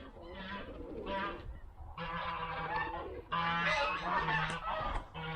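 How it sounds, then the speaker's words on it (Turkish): Several geese honk loudly and repeatedly, overlapping nasal calls in short bursts, close by with no pause. "Kazlar ortalığı yıkıyor."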